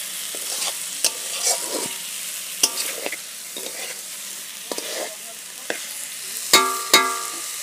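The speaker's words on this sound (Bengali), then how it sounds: "ফুলকপিটা আলুটা মশলাটার সাথে একটু ভেজে নিই" Cauliflower and potatoes fry with spices in a pan, loud and close, with a steady sizzle broken by repeated scraping stirs and clanks of the spoon; no voices.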